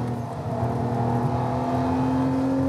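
Lamborghini LP640 driving on the Exotics Racing circuit in Las Vegas, heard from inside as a steady, loud engine drone with a whirring tone, sustained throughout with no voices.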